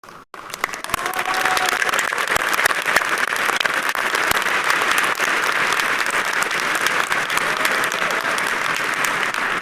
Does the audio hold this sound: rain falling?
no